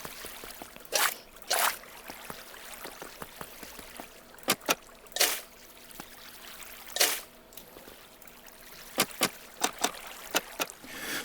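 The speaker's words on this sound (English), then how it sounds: "We'd see the water is running up to the edge, but it's not running over" Water running through channels in Minecraft trickles softly and steadily, broken by scattered sharp clicks and taps, with no talking.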